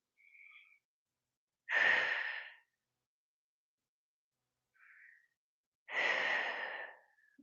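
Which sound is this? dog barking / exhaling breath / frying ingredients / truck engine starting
exhaling breath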